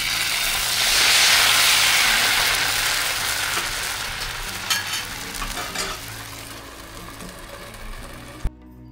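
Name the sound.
cucumber pancakes (tavsale) cooking on a griddle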